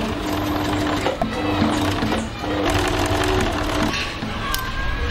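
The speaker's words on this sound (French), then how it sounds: "je vais venir ensuite assembler mes deux couches ensemble par un petit point zigzag" A sewing machine zigzag-stitches two layers of a cotton wipe together, running as a steady close mechanical whir with brief slowdowns and no one talking.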